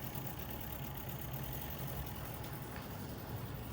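Hornby Silver Link live steam model locomotive running on track, a faint, steady, even rushing chuff with a low rumble throughout, continuous and unbroken, with no voices over it.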